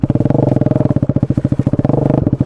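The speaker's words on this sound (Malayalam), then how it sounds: "സൗണ്ട് കേട്ടോ ഗൈസ്. ഇതിൻ്റെ എക്സോസ്റ്റ് സെറ്റ് ചെയ്യാൻ വേണ്ടി അവന് ഊരിയിട്ടേക്കാണ്" A KTM Duke 250 with its exhaust removed revs loudly up close, a harsh, rapid, pulsing single-cylinder bark that rises and falls in pitch across a short burst, with no talking.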